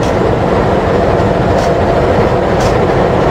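Loud, continuous rumble and roar of an Indonesian train, locomotive 20617 on the Purwojaya service, with dense low-frequency rolling noise and no voices.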